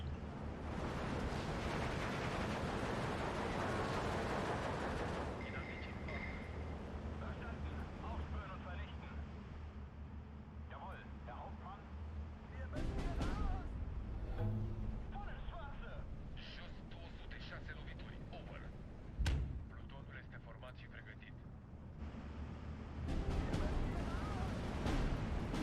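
Gunfire and artillery-like bursts in the Steel Division 2 war game, aimed at mortar positions, with heavy rumbling blasts and scattered shots under ongoing battle noise and someone talking over it.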